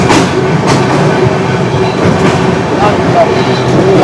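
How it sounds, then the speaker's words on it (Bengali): A passenger train rolls slowly through a forest area near the Coronation Bridge on the route toward Sikkim, with a loud, steady rumble, rhythmic wheel clatter and faint squeals heard from inside the carriage. "এইখানে ট্রেন 40 থেকে 45 কিলোমিটার পার আওয়ার অবধি ম্যাক্সিমাম স্পিড তুলবে"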